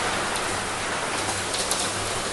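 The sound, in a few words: rain falling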